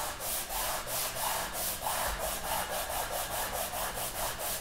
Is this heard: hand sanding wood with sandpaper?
yes